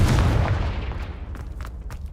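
A Confringo blasting-spell explosion in Hogwarts Legacy, one heavy booming blast that rolls off into a decaying rumble with scattered crackling debris pops, loud and close.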